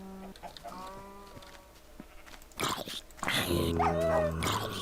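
A dog in a Minecraft game gives a few short barks and yelps amid other animal noises, rising to a louder, busier cluster toward the end.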